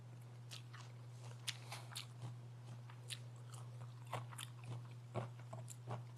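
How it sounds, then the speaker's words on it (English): Arugula salad being mixed by hand close up, with soft irregular crunches and leafy rustles scattered over a faint steady hum, no talk. "So I'm gonna mix it together with my hands."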